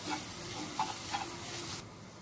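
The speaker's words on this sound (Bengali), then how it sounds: "কিছুক্ষণ নেড়ে নামিয়ে" Wonton filling stirred in a frying pan, soft scraping stirs over a faint sizzle, close and quiet, ending abruptly.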